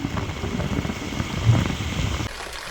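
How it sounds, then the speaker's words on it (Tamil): Heavy rain pouring at Othimalai Murugan hill temple near Coimbatore, a dense steady patter and rush of drops on surfaces, fairly close, cutting off near the end. "மழை பயங்கரமாக இருக்குது நான் நினச்சதோட எக்ஸ்பெக்ட் பண்ணதோட மழை ரொம்ப பெருசாக தான் இருக்குது"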